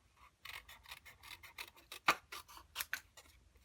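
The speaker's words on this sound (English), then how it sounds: "I am just going to fussy cut them out with my little paper snips." Small paper snips make a steady run of crisp, close cuts through card stock, fussy-cutting paper shapes for a handmade Mother's Day card. There are about fifteen snips in quick rhythm, one sharper than the rest, with no voice.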